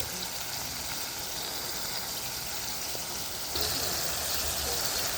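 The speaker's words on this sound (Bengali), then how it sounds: "মশলাটা এরকম করে একটু কষিয়ে নেবেন, ভালো করে নাড়াচাড়া করে এরকম ভাবে কষিয়ে নেবেন" Spice paste (masala) sautéed and stirred in a pan while cooking soybeans, a faint, continuous hiss and crackle of frying that grows a little louder partway through.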